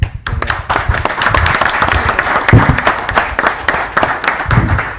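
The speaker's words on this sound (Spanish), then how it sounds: "El aplauso para el ingeniero Ítalo Malaquín, que inició esta jornada" An indoor audience at an agricultural talk gives dense, steady applause for a speaker, many hands clapping at once at close range for several seconds.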